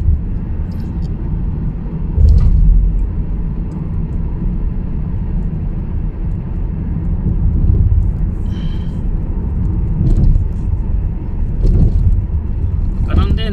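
Road traffic rumbles steadily from inside a slow-moving vehicle in heavy traffic, a low continuous drone with a few brief passing bumps and swells.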